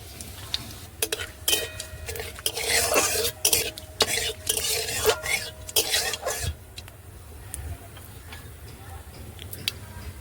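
Fennel seeds dropped into hot oil left from frying paneer, a burst of crackling sizzle and spitting for several seconds, close, then settling into a quieter hiss, with a few light utensil taps.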